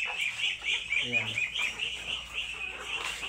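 Layer hens in a poultry house clucking and chirping steadily throughout, a dense overlapping chorus at moderate distance, with a brief spoken word over it.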